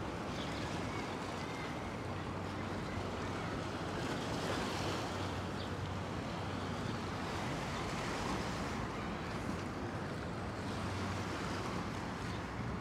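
Water laps and washes steadily near a boat on the river off Roosevelt Island in New York City, a continuous soft rush mixed with wind noise on the microphone.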